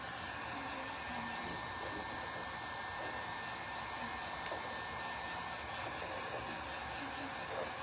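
Hair dryer blowing on a freshly painted Goodwill birdhouse, a faint, steady airy whir with a constant tone running unbroken throughout, heard from a little distance.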